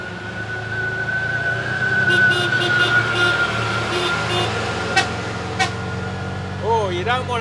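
A heavy truck labours on a steep hill road in Sri Lanka, its engine droning low and steady at close range while horns toot in short bursts and a rising tone swells near the end.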